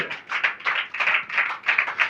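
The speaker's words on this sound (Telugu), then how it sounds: "చప్పట్లు కొట్టాలి." A congregation claps hands together in a church service, a steady run of rapid, fairly close claps in rhythmic bursts with no talk over them.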